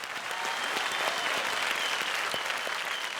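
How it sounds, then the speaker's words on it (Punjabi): A studio audience applauds to welcome a guest on a Punjabi television show, dense steady clapping from many hands, even and sustained throughout with no break. "ਤਾਂ ਜ਼ੋਰਦਾਰ ਤਾਲੀਆਂ ਨਾਲ ਸਵਾਗਤ ਕਰਦੇ ਹਾਂ IIT ਮਦਰਾਸ ਤੋਂ ਪ੍ਰੋਫੈਸਰ ਕ੍ਰਿਸ਼ਨਨ ਸੁਬਰਮਣੀਅਨ ਦਾ"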